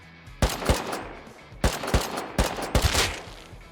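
Gunfire in the survival game Rust, several loud close bursts of rapid shots in quick clusters separated by short pauses.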